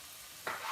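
Fresh red tomatoes drop into a hot frying pan, and a sudden quiet burst of sizzling starts after a near-silent moment and keeps fizzing.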